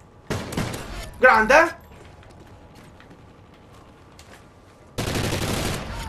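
Gunfire from Call of Duty Ghosts on Xbox One, a burst near the start and a louder sustained stretch of shots at the end, with someone talking over the game between them.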